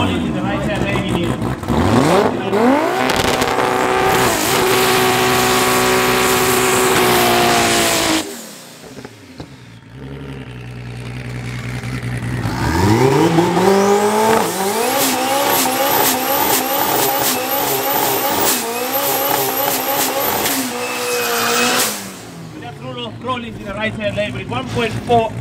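Drag racing cars launch at Midvaal Raceway, one with a 1.48 valve bushrod engine, roaring loudly as they accelerate hard through rising gear changes, then a second run screams up through the gears, with a commentator talking over it.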